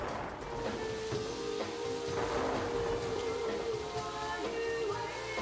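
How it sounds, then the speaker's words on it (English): A machine in the Tonga Room at San Francisco's Fairmont hotel produces artificial rain and thunder on demand: a steady hiss of falling rain and pattering drops fills the room, with faint low rumbles underneath and no talking. "Perhaps its most unique aspect is a machine that produces thunder and rain on"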